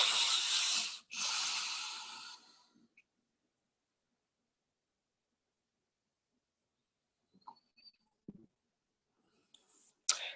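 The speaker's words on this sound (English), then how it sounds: "just taking big deep breaths in and out through the nose" Deep breathing in and out through the nose during a calm self-care session: two strong close breaths at the start, then a long quiet pause and a few faint later breaths and small clicks.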